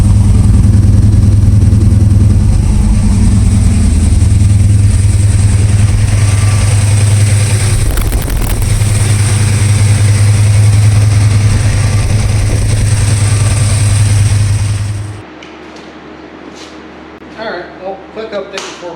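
A 1979 Camaro with an aftermarket exhaust idles loudly with a deep, steady rumble close by for about fifteen seconds, then the engine cuts off, leaving faint ambient sounds.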